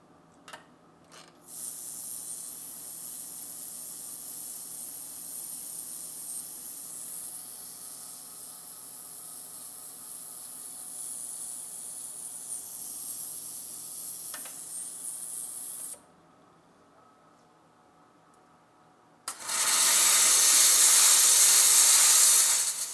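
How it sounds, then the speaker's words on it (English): An ultrasonic cleaner hums with a steady high hiss while cleaning a repaired chain, then stops; after a short quiet gap, a loud burst of steam blasts the chain clean. "I'm going to quickly run it through the ultrasonic cleaner and steam it off"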